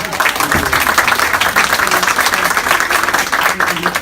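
Applause from an audience at an open-house psychology talk, a dense steady wash of clapping hands that holds loud through the whole stretch with no voices over it.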